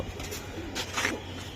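A racing Giribaz pigeon of the black-neck line coos close up, a few soft throaty bursts.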